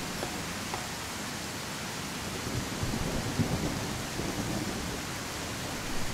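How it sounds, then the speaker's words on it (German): Rain and thunder from the video game Tribe: Primitive Builder make a loud, steady hiss of downpour with low rumbling swells, filling the scene continuously with no voices. "Der Regen ist immer so laut, ey."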